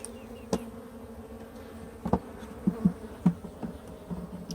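Honey bees buzz around an open hive during an inspection, a low hum with several close, brief louder buzzes as individual bees pass near.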